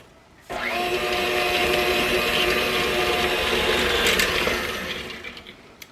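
An electric mixer blending sweet potato pound cake batter, switching on abruptly into a steady, loud whirring drone that holds for several seconds before winding down.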